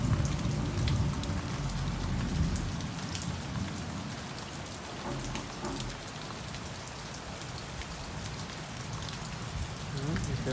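Steady rain pours down outdoors in Jamaica, a dense, even hiss of drops hitting surfaces that holds up for the whole stretch.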